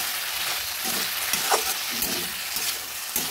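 Potatoes cook in a covered pan, giving a steady close sizzle and frying hiss with a few soft stirring knocks, and no voices.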